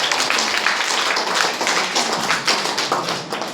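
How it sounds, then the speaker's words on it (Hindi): A group of schoolchildren in a classroom clap together in quick, dense, steady bursts, loud and close, with no talking over it. "ताली मारो के लिए"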